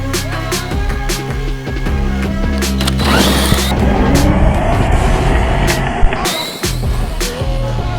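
A Losi LMT Gravedigger RC monster truck tears along on a speed run, its electric motor whining loudly and steadily over gritty wheel rumble, surging louder midway before settling.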